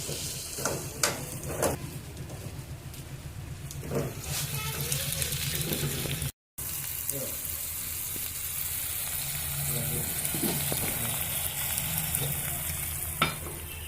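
Potato curry fries with ginger paste in a pan, a steady sizzle broken by repeated scraping stirs throughout, with a momentary cut partway.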